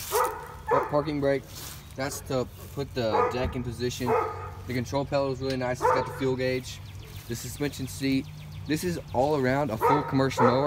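Dogs bark intermittently in the background, small yips and barks mixed in, while someone talks steadily in the foreground about commercial mowers.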